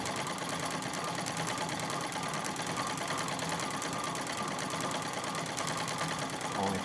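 A Singer 66 treadle sewing machine runs steadily during free motion quilting, a continuous close mechanical whirring hum with a fast stitching chatter that holds at an even level throughout.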